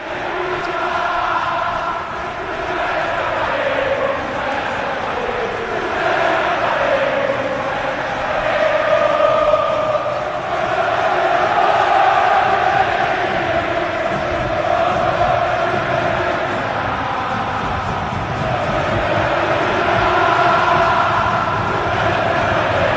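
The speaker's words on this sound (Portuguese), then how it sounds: "a torcida do Boca canta" Boca Juniors supporters chanting in their stadium, a broad sustained wall of crowd voices rising and falling in a steady sung rhythm, loud and continuous throughout.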